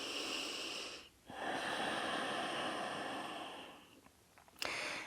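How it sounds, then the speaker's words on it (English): Slow, steady breathing during a prenatal yoga stretch in the third trimester, with long soft airy exhales and inhales close to the microphone, a brief pause between breaths and a sharper sniff near the end, no talking. "Keep breathing."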